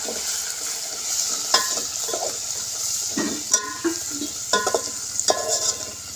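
Turmeric, homemade masala and salt being mixed with a spoon in a pan on a wood-fired stove for egg biryani: a low sizzle under regular close scrapes and clinks of the spoon against the pan.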